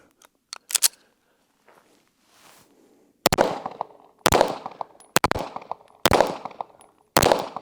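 A Girsan Match X pistol with an EPS Carry sight fires a string of loud, sharp, close gunshots outdoors, spaced roughly a second apart, each with a short ringing echo, after a couple of quieter clicks and handling noises.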